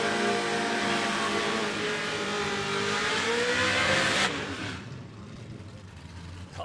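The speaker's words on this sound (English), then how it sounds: "Nice big smoky burnout from the RX-8." A heavily modified Mazda RX-8 does a big smoky burnout at a no-prep drag strip. Its engine screams at sustained high revs, loud and close, then drops off sharply to a lower, rougher idle-like rumble.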